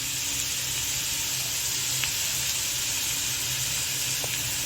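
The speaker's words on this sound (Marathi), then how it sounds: "हे छान परतवून घेऊयात." Onion and green chilli sautéing in a pan, a steady close hiss of sizzling oil with faint crackles throughout, continuous and without pause, with no talking.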